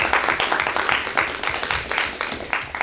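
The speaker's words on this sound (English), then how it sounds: "Let's give her a round of applause." An audience at a school board of education meeting applauds, a moderate spread of individual claps in an uneven rhythm, fairly close and steady for a few seconds.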